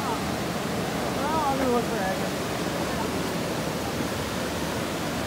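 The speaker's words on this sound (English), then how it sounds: "it isn't even a waterfall. It's just like rapids showing." River rapids rush in a glen park as a steady, broadband roar of moving water, with brief voices over it.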